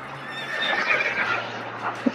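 An American Quarter Horse in the Star Stable video game lets out a long, clear whinny, followed by a couple of short hoof clops at the end, close and alone without talk.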